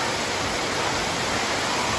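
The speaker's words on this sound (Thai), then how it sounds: "เป็นลำธารน้ำธรรมชาตินะครับที่ไหล มาจากนะครับ แหล่งน้ำจากด้านบนนะครับ" A natural stream flowing down from a water source above, beside a durian orchard in Bo Rai on a rainy day, gives a steady, dense broadband rush of water with no pauses, evenly loud throughout.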